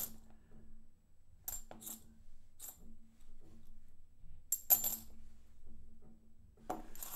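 Half dollar coins are handled and dropped, giving a series of sharp metallic clinks and rattles spread across a quiet background, with a few louder clusters of jingling.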